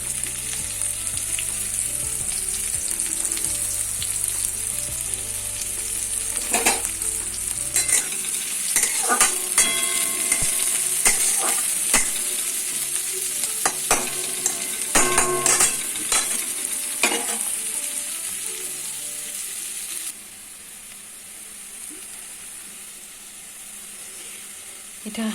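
Onions fry in a pan, a continuous loud close sizzle with scattered clinks and scraping as a utensil stirs them, busiest in the middle stretch, then the sizzle softens toward the end; no one speaks.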